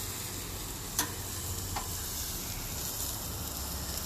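A steak sizzles on a grill with a steady, dense hiss that fills the whole stretch, fairly faint overall, broken by a couple of small ticks and no voices.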